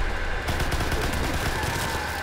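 Dense, steady gunfire from the World War II shooter Call of Duty: WWII, with rapid overlapping shots that start after a brief lull and continue loudly for about two seconds.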